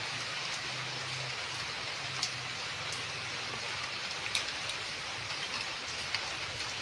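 Steady rain hisses evenly throughout, with occasional sharper drips landing close by; no voices.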